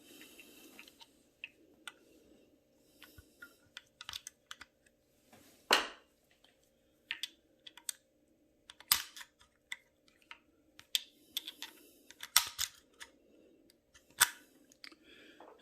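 Cartridges are loaded into a Rossi .357 Magnum lever action rifle, a quiet scatter of irregular metallic clicks and snaps, with a few sharper clacks standing out.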